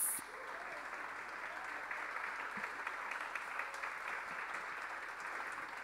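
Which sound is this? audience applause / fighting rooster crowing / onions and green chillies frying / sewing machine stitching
audience applause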